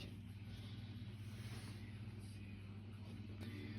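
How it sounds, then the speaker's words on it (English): A Lego vacuum engine motor runs steadily with a soft, even mechanical drone and faint rhythmic pulsing, heard alone and at low volume. "It's a pretty good quiet sounding motor."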